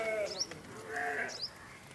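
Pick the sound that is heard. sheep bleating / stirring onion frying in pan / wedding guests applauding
sheep bleating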